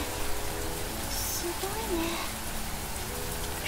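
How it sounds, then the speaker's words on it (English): Heavy rain pours steadily in the visual novel Sankaku Renai, a constant dense hiss of drops on the ground with a brief tonal game sound partway through and no voices. "The rain is pelting the ground so hard it could almost leave dents."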